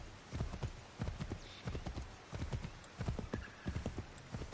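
Rhythmic clip-clop of horse hooves in Assassin's Creed III Remastered, steady repeated footfall groups at a moderate pace, close and fairly quiet, with no talk over it.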